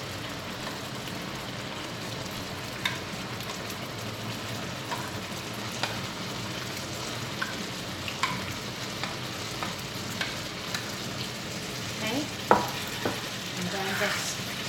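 Hakka yam abacus seeds being stir-fried in a pan: a steady, moderately loud sizzle runs throughout, with scattered scraping stirs and clacks of a utensil, and no one speaking.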